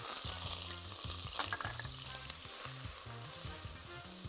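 Onion fries in oil for a tomato pasta sauce, making a steady, fairly faint sizzle with light stirring, under a background tone that rises and falls in steps.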